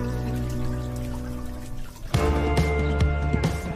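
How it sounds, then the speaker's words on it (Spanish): Water flows and trickles in a courtyard patio in Córdoba, a steady liquid rush with a few brighter splashy drips joining midway, close and continuous, no talking. "dejarse llevar por el sonido del agua"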